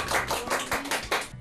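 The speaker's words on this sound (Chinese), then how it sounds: "我哋俾啲掌声啊！" An audience in a Japanese samurai and kendo studio claps after a sword master's demonstration, a short run of about six sharp, close hand claps in steady rhythm that stops abruptly.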